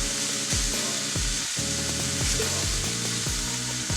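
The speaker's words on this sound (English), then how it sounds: "I'm going to put these on the stove, on the Still Made USA griddle, and I'm not using butter, I'm using mayonnaise" Mayonnaise sizzles steadily and loudly on a hot Still Made USA griddle on a stovetop, a continuous crackling hiss with a faint rhythmic scraping pattern running through it.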